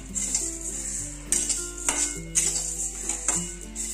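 Coriander seeds dry roasting in a pan for homemade red masala, stirred with a utensil that scrapes and clinks against the metal in irregular bursts over a steady background hum.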